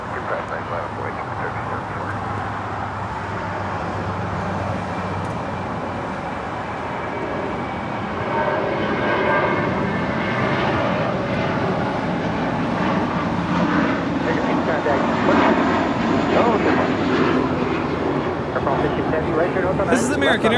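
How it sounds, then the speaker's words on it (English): An American Airlines Airbus A321 bound for JFK departs Los Angeles International Airport. Its broad jet roar holds steady, then swells louder partway through and stays strong to the end, with voices talking beneath it. "This is American Airlines Flight 2, departing to JFK on an A321."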